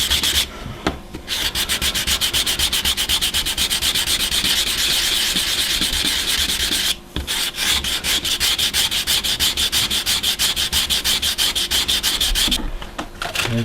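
Fine sandpaper, around 100 grit, rasps steadily across wood in fast back-and-forth strokes, loud and close, broken by two brief pauses.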